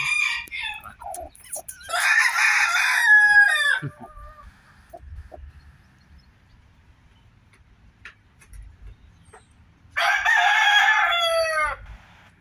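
A rooster, father of a three-day-old brood of chicks, crows twice near the mic: one long crow early on and another later, with quiet farmyard ticking between.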